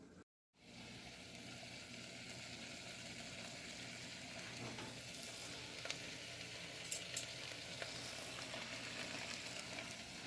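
Bacon strips fry in a pan, a steady close sizzle with occasional sharp pops and spits, starting after a brief silence and running alone without talk.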